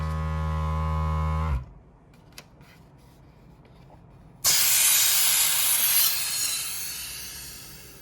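A resin vacuum chamber's steady motor drone cuts out abruptly, leaving near-quiet with a couple of faint clicks, then a lever releases a loud rush of hissing air that slowly fades.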